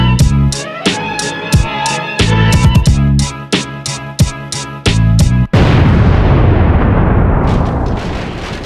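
A bomb explosion effect in a 2004 French rap mixtape skit: a run of sharp rhythmic hits gives way to a single heavy blast that rolls into a long, loud rumbling wash and slowly fades.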